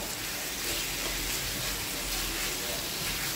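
Mutton frying in hot oil, a loud, steady, dense sizzle that fills the space without a break and sounds close up.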